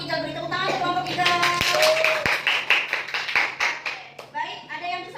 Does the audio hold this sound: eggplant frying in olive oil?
no